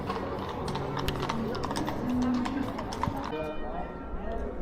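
Hooves of a horse-drawn carriage clip-clop along a street in Dresden, a steady trotting rhythm of sharp clacks under street noise and people talking.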